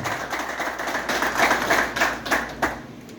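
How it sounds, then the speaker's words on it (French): Audience at a ceremony in Haiti applauding the ODVA director, a dense, steady wash of many hands clapping at moderate distance, with a few sharper claps standing out near the end. "Je demande à l'assistance d'applaudir le directeur de l'ODVA pour cette initiative."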